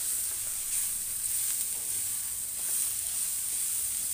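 Green chillies sizzle steadily in a hot pan while methi matar is being cooked, giving a quiet, even hiss that runs unbroken throughout with no voices.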